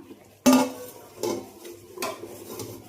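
A few scraping, clattering strokes of a spoon stirring ghee rice in a metal cooking pot, three distinct bursts spaced about a second apart, close by.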